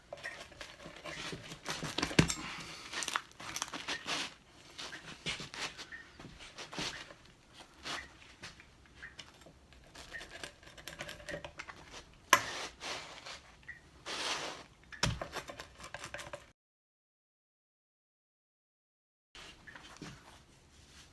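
A knife or pizza cutter works through a homemade broiled pizza with an airy crust, giving scattered scraping and clinking on a pan or board, close by with short irregular strokes, then a brief silence and a few last scrapes.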